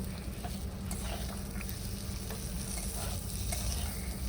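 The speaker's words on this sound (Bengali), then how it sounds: "পটলটাও একটু লালচে করে ভেজে তুলে নেব" Round slices of pointed gourd (potol) fry in refined oil in a pan over medium heat, giving a continuous soft sizzle with faint stirring scrapes, steady and fairly quiet, with no talking.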